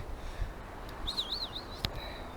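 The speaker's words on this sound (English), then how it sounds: "Birds are fretting because I'm here" A small bird gives a warbling, wavering whistle outdoors in springtime Japan, a single short phrase a little way off, followed by a sharp click against quiet ambient noise.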